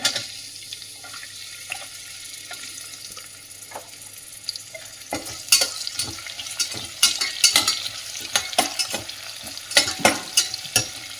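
Chopped onions tossed into a hot pan and stirred for a sweet corn rice bath, with frying sizzle and repeated sharp spoon scrapes and clatters that grow busier and louder partway through.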